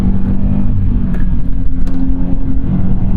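A Scion FR-S sports car driving, its engine droning loud and steady from inside the cabin with a continuous low rumble throughout.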